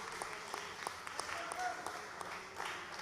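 Crowd applause at a charity grappling event, a soft dense patter of clapping heard faintly in a large space, with brief voices mixed in.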